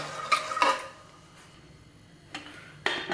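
A green peas and egg mixture with salt and turmeric is stirred in a pan: a few short scraping and clinking bursts of a utensil, separated by near silence.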